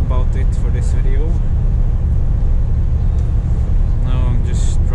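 A Scania truck drives through snowy, bad weather with a loud, steady engine rumble filling the cab, while someone talks intermittently over the noise.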